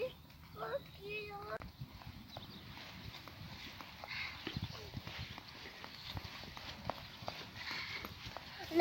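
A horse steps backwards, its hooves giving soft, irregular clip-clops at moderate distance while a person talks quietly over them.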